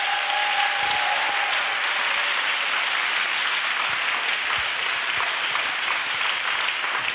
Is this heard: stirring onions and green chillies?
no